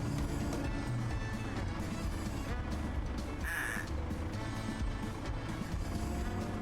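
Cartoonish quacks from ducks in the VR digging game DIG VR sound over a constant engine drone, with a brighter burst of squawking in the middle.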